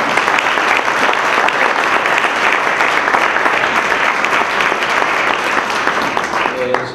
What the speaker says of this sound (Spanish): le calentamos un poquito con un aplauso